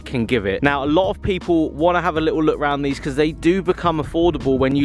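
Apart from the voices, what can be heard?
No everyday noises stand out.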